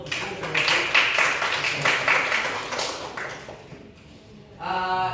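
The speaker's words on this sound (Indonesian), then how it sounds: "Kasih tepuk tangan dulu." Students clapping in a classroom, a brisk burst of hand claps that swells, then fades toward the end as a voice begins.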